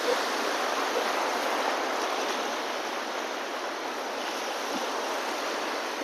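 Sea waves wash continuously at Aare Ware beach in Ratnagiri, a broad, steady surf roar with some wind, filling the whole span without voices.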